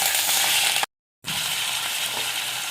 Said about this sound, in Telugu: స్టవ్ మీద బాండి పెట్టి ఆయిల్ పోసుకుంటాను అయితే చక్కగా నూనె కాగాక ఇవి వేసేసుకోవాలి